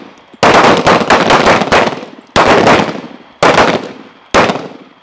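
Gunfire rings out during night shooting training: a rapid burst of loud, close shots, then three more single or paired reports spaced apart, each trailing off in echo.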